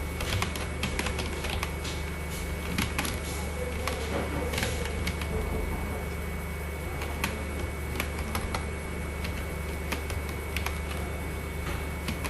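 Keys clatter steadily on a computer keyboard as text is typed into a Microsoft Word document, a close, continuous run of quick clicks with a faint background hum.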